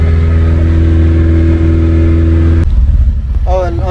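A classic Toyota truck with a street clutch cruises on the highway in fifth gear, its loud, steady engine drone shifting tone near the end as a voice briefly cuts in.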